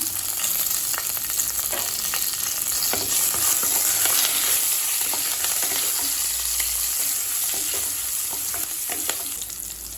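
Dried red chilies, asafoetida and crushed garlic cloves frying in hot oil in a pan for paruppu kuzhambu, a loud continuous sizzle with stirring scrapes running throughout.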